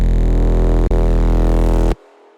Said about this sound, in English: The 3 layers together, they sound like this.